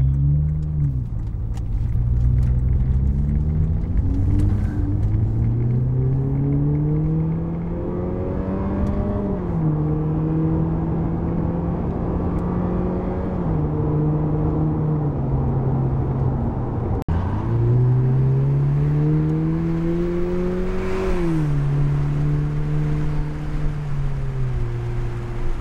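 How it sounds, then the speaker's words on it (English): A car exhaust drones and revs repeatedly, rising and falling in pitch with a deep, muffled rumble heard from inside the closed cabin. "the exhaust sounds absolutely amazing"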